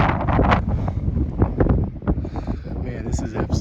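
Strong gusting wind buffets and roars across an exposed Appalachian Trail mountain section, loud and continuous, with someone speaking under the blustering noise.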